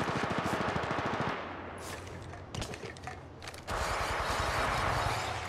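Gunfire in the mobile shooter Apex Legends Mobile, played as Bangalore in a ranked match: rapid automatic bursts rattle loudly, break into scattered single shots and thuds, then resume as dense sustained fire.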